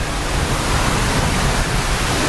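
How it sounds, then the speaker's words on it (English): A powerful waterfall in the Philippines roars as a steady, loud, broadband rush of falling water, continuous and close, with no voices over it. "That is a beautiful waterfall."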